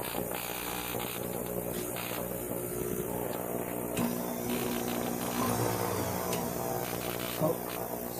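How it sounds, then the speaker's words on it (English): A Scotch-Brite abrasive pad is rubbed around a stainless steel vintage watch band, a continuous close scrubbing hiss over a steady electrical hum, with occasional sharper scrapes. "So we're just going to Scotch-Brite the band all around."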